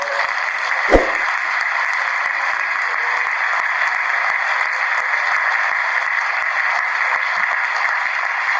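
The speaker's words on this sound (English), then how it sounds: "give yourselves a huge round of applause." Graduation crowd at Harvard Business School applauding the class of 2012, a loud, continuous roar of clapping from a large audience, steady throughout after a single sharp thump near the start.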